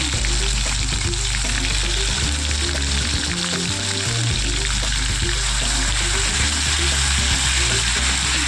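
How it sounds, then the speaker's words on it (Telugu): Oil sizzles hard in a pan while the masala for a prawn and gongura curry fries down, a loud, steady crackle running the whole time with low bubbling underneath and no voices. "అది వేసి బాగా నూనె తీలిపోయే వరకు వేపాలి"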